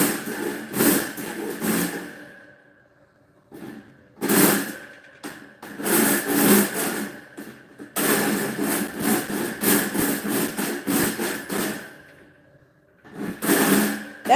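Metal file rasping back and forth over freshly cut metal, close up, in repeated bursts of strokes separated by short pauses.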